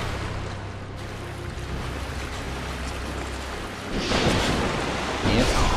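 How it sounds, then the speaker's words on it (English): Water rushes in and floods an area in Dark Souls 2: a steady broadband wash that swells louder over the last couple of seconds, with no other sounds standing out. "The water is filling ultra fast"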